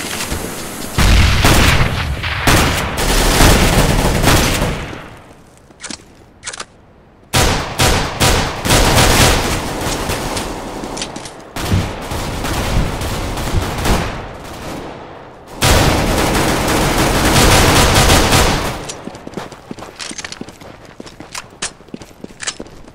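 Counter-Strike GO match with a grenade blast and bursts of rapid gunfire, loud and dense, broken by brief lulls between heavy volleys.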